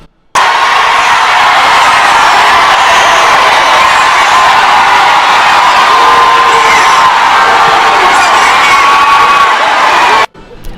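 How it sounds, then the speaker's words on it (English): A large rally crowd roars and cheers, a loud sustained wall of shouting and whooping that cuts off abruptly at the end. "the crowd is roaring and she's just soaking in all the adulation"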